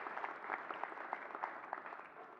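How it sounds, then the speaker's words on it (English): Audience applause after a keynote at a developer conference, a fairly faint, even patter of many hands clapping in a large hall, continuing without a break and heard from a distance. "Can we get a round of applause for that?"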